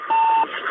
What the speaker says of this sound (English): The familiar beeping of the radio beacon on the Soyuz